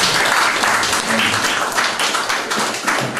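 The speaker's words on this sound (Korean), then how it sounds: "박수로 환영해 주시기 바랍니다." An audience at a media solidarity group's first-anniversary event applauds to welcome a former KBS board chairman, with dense, sustained clapping filling the room loudly and evenly throughout.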